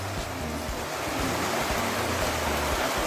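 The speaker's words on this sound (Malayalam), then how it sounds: "ഭയങ്കര മഴ കേട്ടോ ഭയങ്കര മഴ" Heavy rain pouring down, a dense unbroken roar of falling water with a low rumble underneath, steady and loud throughout.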